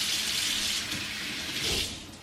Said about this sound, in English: Get a little warm water here.